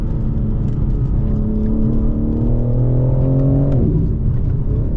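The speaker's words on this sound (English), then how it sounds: "with that cold air intake, as well as that titanium exhaust, I feel like this has a good mix of loudness, but not being annoying, and then it's got a really nice induction noise" A 735 hp G82 BMW M4 Competition xDrive fitted with a cold air intake and titanium exhaust drones steadily under load, its engine note climbing smoothly in pitch with induction noise before easing off near the end, loud and close.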